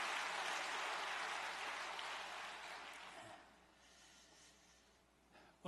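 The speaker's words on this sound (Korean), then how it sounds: "박수 한번 보내겠습니다" Applause from a church congregation fills the opening seconds as a dense, steady clatter of clapping, then thins out and fades to quiet room tone toward the end.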